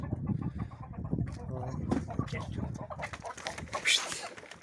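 Several chickens, including small ones, cluck close by in a village setting while people talk over them, with scattered rustling and a few sharper calls near the end.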